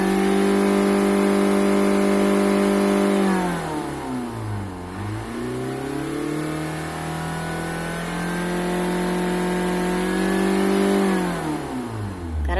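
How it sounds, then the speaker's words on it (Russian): A Ford Mondeo Mk4 2.0 TDCi diesel engine idles, then is revved up, held at higher revs, and dropped back to idle, with a steady close mechanical drone throughout. "Сейчас буду газовать."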